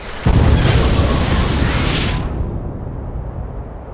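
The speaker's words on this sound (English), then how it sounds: "Mag firing." A mag round fires in Halo Wars: Definitive Edition with a single sudden, very loud boom, then a long roaring rumble that fades gradually over several seconds.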